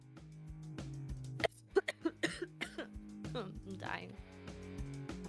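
A person coughs several times in a quick cluster of sharp, close bursts, followed by throat clearing and low voiced sounds, over a faint steady background tone.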